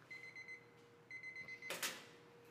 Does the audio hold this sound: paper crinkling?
no